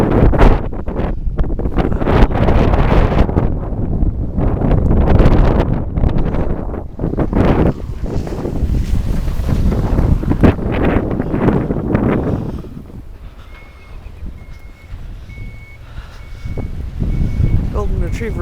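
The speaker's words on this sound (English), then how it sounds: "Oh, wind's pretty bad too." Strong wind blasts and buffets the microphone outside a snow-covered house during a heavy April snowstorm. The gusty roar is loud and steady, then eases near the end.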